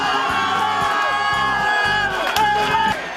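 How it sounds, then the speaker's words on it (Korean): Massed fans of the LG Twins cheering and chanting together at a packed baseball stadium, a loud continuous roar with rhythmic pulses from the crowd. "환호는 하늘을 찌를 듯 커졌습니다"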